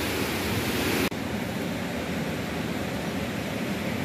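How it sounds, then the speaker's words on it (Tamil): A stream rushes along a cycle path in Swiss Normandy near Caen, a loud, steady, close roar of flowing water with no clear birdsong standing out. "பறவைகளோட சத்தத்துக்கு நடுவுக்குள்ளே இந்த தண்ணி பாயுது"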